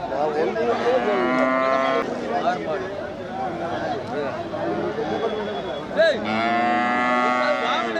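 Loud, drawn-out cattle moos close by at a cattle market in Melur, two long bellowing calls separated by a stretch of murmured background noise.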